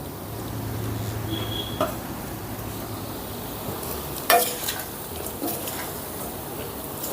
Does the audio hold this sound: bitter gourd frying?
yes